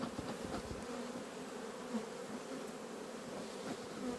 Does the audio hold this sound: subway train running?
no